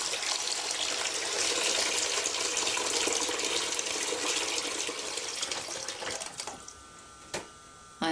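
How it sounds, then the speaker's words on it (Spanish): Tap water runs steadily and fairly loud into a sink during hand washing, a continuous hissing splash that thins out near the end as the flow is turned down, with no voices. "empiezo a lavármelas y después dejo que se vaya el agua usada. Luego pongo más agua en la pila"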